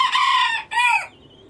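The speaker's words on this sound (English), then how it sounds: "the females have a quack, your traditional duck quack" A female duck gives two close, loud quacks, each a drawn-out nasal call, followed by a quiet pause.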